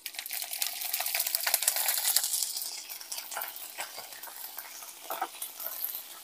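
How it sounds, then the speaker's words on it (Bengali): Whole spices, dried chillies, mustard seeds and curry leaves sizzle loudly in hot oil while a spoon stirs and scrapes the pan in quick irregular strokes. "ফোড়ন দিয়ে আমরা একটু নাড়িয়ে নেব ভালো করে"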